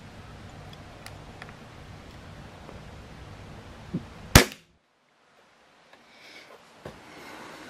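Crosman 2400KT air pistol with a TKO muzzle brake fired once close to a sound meter: a single sharp, loud crack partway through, then brief quiet over faint background noise.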